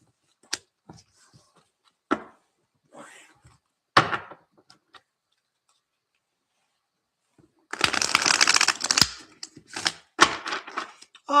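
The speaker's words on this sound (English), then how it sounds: "Let's give these cards a shuffle." Tarot cards are handled in a few sparse taps and thumps, then riffled in a dense shuffle lasting a couple of seconds, followed by more scattered knocks.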